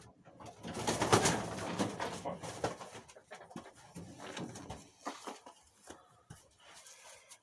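Soft cooing of adult racing pigeons during the moult, close by, rising and falling in a few bursts with rustling between calls.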